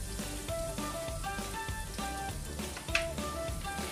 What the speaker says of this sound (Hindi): मैदा डाल के थोड़ी देर इसको भूनेंगे ताकि मैदा का कच्चापन ख़त्म हो जाए।